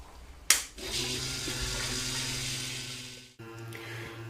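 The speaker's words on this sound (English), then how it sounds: "let's switch on both pumps and see what happens" A click, then two pumps hum and circulate water through a homebrew brewing setup, rushing steadily for a few seconds, cutting off briefly before the flow and motor hum start again. No voices.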